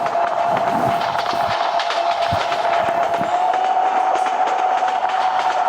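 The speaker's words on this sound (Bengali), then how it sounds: "ট্রেন আমাদের কাছ থেকে, আমার একদম জাস্ট পাশ থেকে চলে গেল" A train in Train Simulator Bangladesh rolls right past the player, a loud steady rumble with a sustained tonal hum and occasional clanks as the carriages go by.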